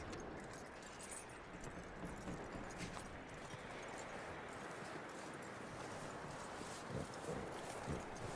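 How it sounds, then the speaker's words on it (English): Horse hooves clip-clopping in the video game Red Dead Redemption 2, a faint steady stream of soft hoof beats under low ambient noise. "That looks like a decent horse. You should keep him."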